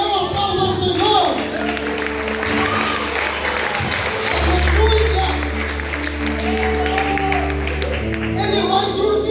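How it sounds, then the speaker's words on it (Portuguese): Church congregation applauding the Lord during a worship service, steady clapping mixed with crowd noise under music and an ongoing preacher's voice. "Dá um aplauso ao Senhor."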